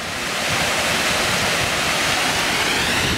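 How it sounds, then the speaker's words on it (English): Several small waterfalls pour steadily at an outdoor filming location, a loud, close, continuous rushing wash with no break. "you've got another lots of little tiny waterfalls going off that way"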